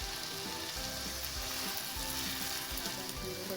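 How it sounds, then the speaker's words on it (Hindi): Half a kilo of minced beef keema with ginger-garlic paste sizzling in a karahi, a dense continuous frying hiss with occasional stirring scrapes, close and steady with no talk. "तो अब हम कीमे को भूनेंगे 4 से 5 मिनट"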